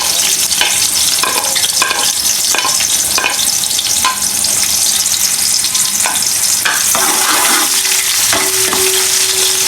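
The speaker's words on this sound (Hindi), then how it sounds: "सबसे पहले 1 कप घी डालेंगे इसके अंदर। गरम हो गए। अब चलिए प्याज" Sliced onion sizzles and fries loudly in a cup of hot ghee for Chinese pulao, steady crackling broken by sharp clanks and scrapes of a spoon stirring against the pot, with no talking.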